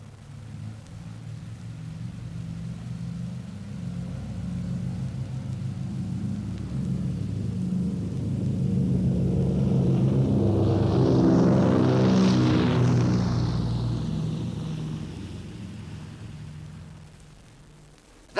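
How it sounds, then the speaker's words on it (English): A Lockheed Super Constellation piston-engine airliner passes at London Airport, its propeller drone building from a distant rumble to a loud, close roar with a falling whine, then fading away over about eighteen seconds. "That's a Super Constellation, quite a rare visitor to London Airport these days, and its piston engines make it something of an odd man out among the jets"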